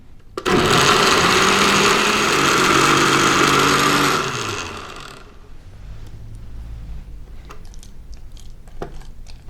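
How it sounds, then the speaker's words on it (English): Countertop blender whirs loudly for about four seconds blending sweet potato pie filling with almond butter, a steady high motor roar that cuts off, followed by quiet kitchen clatter. "let's give this a whirl in the blender."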